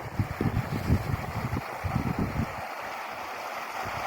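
Fast-flowing mountain stream water among trees in Chitral, a steady broadband rush with churning low gurgles, close and continuous without talking.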